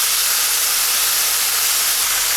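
A steak just flipped in a hot pan gives a loud, continuous, hissing sizzle. The sound stays steady and close, with no talking over it.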